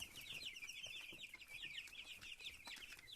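Cobb 500 broiler chicks feeding: a dense, continuous flurry of high-pitched peeping and cheeping from many birds close by, with faint pecking and rustling beneath.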